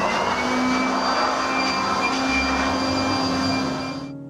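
An air pump blasts a steady, loud stream of air over a wall-mounted split air conditioner unit to clear dust, holding a constant hiss with a faint whine, then cutting off abruptly at the end.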